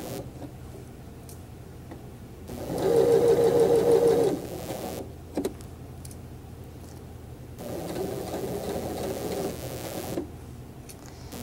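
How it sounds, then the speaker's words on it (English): A sewing machine stitches small gathers into fabric in two short bursts of fast, steady whirring, with a quiet pause and a brief click between them, close by and without voices. "your stitches are going to hold those small little gathers into place"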